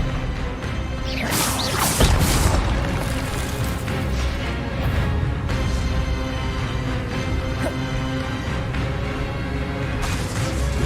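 An Expelliarmus disarming spell is cast in the game Hogwarts Legacy, a loud whooshing crash with a bright burst early on, followed by softer swishes and impacts over a steady score.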